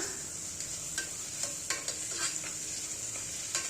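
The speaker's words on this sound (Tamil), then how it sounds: "இஞ்சி பூண்டு பேஸ்ட்டு சேர்த்துக்கலாம் இதோட பச்சை வாசனை போகிற வர நல்லா வதக்கி எடுத்துக்கரலாம்" Ginger garlic paste sautéing and sizzling in a pan for kushka, a steady frying hiss broken by several sharp scrapes and clinks of a spoon stirring, close and alone.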